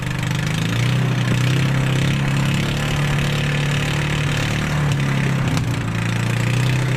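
A boat engine runs steadily and loud throughout, a close, low droning motor hum with constant rumble and no pauses, out on the water somewhere in the Pacific.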